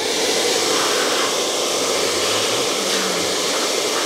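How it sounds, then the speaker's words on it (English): A hair dryer blows on a calf's coat being brushed for a show, a loud, close, continuous rushing whoosh of air with slight variations as it moves along the coat. "put the hair dryer right in against the brush there"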